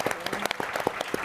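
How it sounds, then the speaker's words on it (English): An audience at an interior design conference presentation applauds architect and designer Lauren Rottet, with dense, lively clapping from a sizable crowd that runs throughout the short burst, close and fairly loud. "let's give her a round of applause for that"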